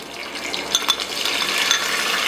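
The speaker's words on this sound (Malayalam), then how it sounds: "ഞാൻ ഇതിലേക്ക് നമുക്ക് കാഷ്യും മുന്തിരിയും കൂടെ ഇട്ട് കൊടുക്കാം" Cashews and raisins dropped into hot oil and ghee for biryani, giving a steady, close sizzle with a few brief brighter crackles and clinks early on.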